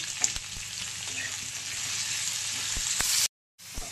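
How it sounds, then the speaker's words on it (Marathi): Onion, green chili, ginger and garlic sizzling in a hot pan with a little salt, a steady close frying hiss with a few stirring knocks, cutting off briefly near the end. "कांदा, मिरची, आलं आणि लसूण टाकून आपल्याला भाजून घ्यायचे"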